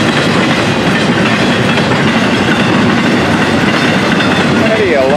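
An FEC freight train with double-stack cars rolls past close by, producing a loud, continuous roar of wheels and steady rail clatter that fills the whole stretch.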